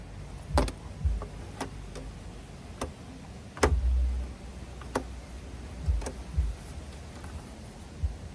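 An old folding camping table is unfolded in a car camping setup with a Scion xB, giving a scattered series of sharp clicks and ticks with a few soft thumps, close and fairly quiet, with no voices.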